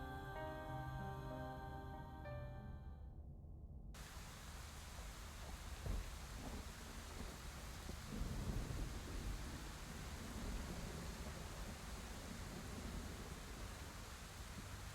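Rain in the video game Scarlet Hollow falls as a steady, dense wash of noise that begins abruptly after a few seconds of music, with faint rumbling swells underneath.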